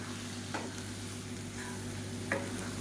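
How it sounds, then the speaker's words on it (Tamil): Brinjal and potato curry is stirred and fried in a pan, giving a low steady sizzle with two soft scraping strokes of the spoon. "இப்போ இது எல்லாத்தையுமே சேர்த்துடலாம் சேர்த்துட்டு நல்லா கரட்டி விட்டுக்கலாம்"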